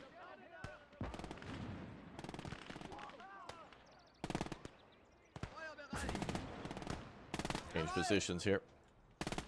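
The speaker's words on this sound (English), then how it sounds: "They're getting hit by that MG over here." Machine gun bursts and scattered gunshots ring out across a WWII battlefield in the game Liberation, with sharp repeated cracks and some explosions coming in clusters, over a voice talking.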